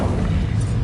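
A fire spell cast in the Hogwarts Legacy video game, heard as a dense, loud, low whooshing burst that sustains through the whole short moment with no voice over it.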